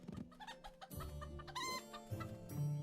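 Chickens cluck in a farm video game, a short run of close, fairly quiet clucks and squawks with a brief crow-like call, with no talking.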